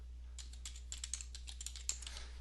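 Fingers tap on a computer keyboard in a quick, uneven run of light clicks, close and fairly quiet over a low steady hum, with no talking.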